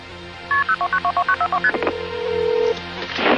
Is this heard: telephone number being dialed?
yes